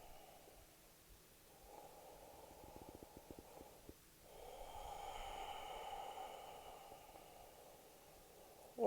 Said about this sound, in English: All you have to do is breathe.